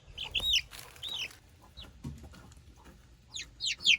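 Barred Rock chicks and chickens on a farm, with high chirps and soft clucks scattered in short bursts close by, over a low background rumble.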